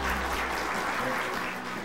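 Audience applause welcomes Go master Lee Chang-ho, 9-dan, at a Korean Go legends event, a dense steady wash of many hands clapping that stays loud and even throughout before easing slightly at the end.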